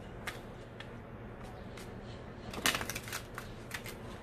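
Tarot cards being shuffled by hand: soft, faint riffling taps scattered through a quiet room, building to a brief louder burst of shuffling near the end.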